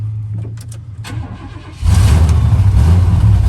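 A 1979 Chevy C-10 pickup, rusty after sitting for years, cranks with a few uneven starter whirs, then catches and roars into a loud, steady idle close by.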